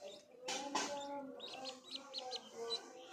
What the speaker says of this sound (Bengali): আজকে আমার চীনা হাঁসের বাচ্চাগুলো রোদ্রে ছেড়ে দিয়েছি হাঁটাহাঁটি করার জন্য।